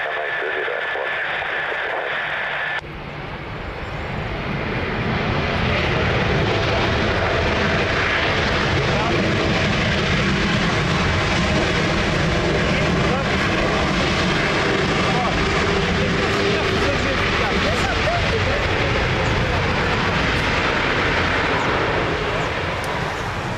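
An aircraft engine roars steadily and loudly at Lisbon Airport, swelling after a few seconds and holding for the rest, with radio voices from air traffic control underneath.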